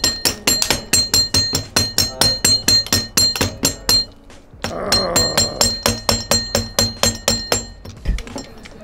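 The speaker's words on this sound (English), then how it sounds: "Use a mallet to hit that." Rapid series of sharp metallic taps from a mallet striking a BMX bike crank, roughly evenly spaced, a brief pause midway, then another quick run of strikes ringing slightly.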